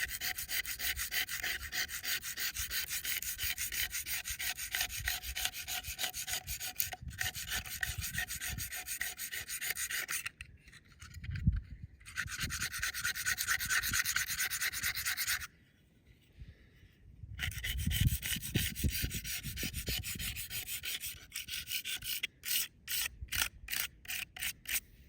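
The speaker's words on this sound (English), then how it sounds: "I want to first do some scraping" A tombstone surface is scraped in steady, continuous rubbing strokes up close, with brief pauses around the middle and a quicker run of short strokes near the end.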